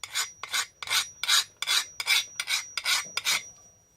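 A file scrapes along the spine and blade of a heat-treated knife in about nine even, close rasping strokes, each a bright gritty burst, then falls silent.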